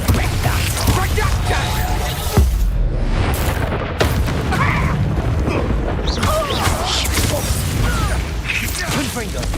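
Bombarda explosion spell going off in the Hogwarts Legacy video game, dense booming blasts and rumbling debris filling the whole stretch with loud, continuous battle noise.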